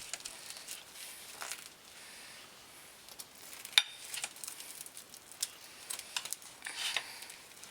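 Serrated bread knife sawing through a cooled sourdough loaf with a soft, spongy crumb: faint, close crackly rasps and crumbly scrapes in uneven strokes, with one sharper crack of crust partway through.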